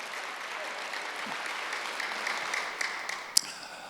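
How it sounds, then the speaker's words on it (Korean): A church congregation at a Wednesday worship service claps together, a moderate wash of steady applause from the pews, fairly distant, ending with one sharp louder clap near the close. "박수로 하시오."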